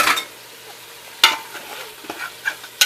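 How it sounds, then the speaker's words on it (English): Chili powder and seasonings stirred in a pot for Algerian chorba, with a soft continuous sizzle punctuated by a few sharp scrapes of the spoon against the pot, close and clear. "stir them, mix them up together, all together like this."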